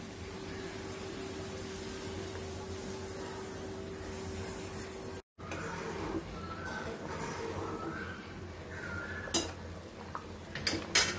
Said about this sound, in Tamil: இப்போ நான் ரவையை போட்டு கிண்ட போகிறேன்.